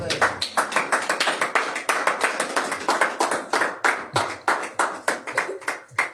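A church congregation claps together in a steady, fast rhythm, loud and close, with no one speaking over it.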